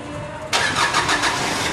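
A Mitsubishi Space Gear Delica van engine catches abruptly and roars to life after a brief quiet moment, then settles into a loud, steady idle with slight pulsing.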